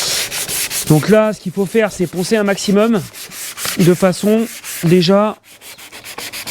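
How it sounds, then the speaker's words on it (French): A plastic car headlight is sanded by hand, making repeated rasping back-and-forth strokes, loud and close, with a person talking over much of the rubbing. "ce qu'il faut faire, c'est poncer un maximum de façon"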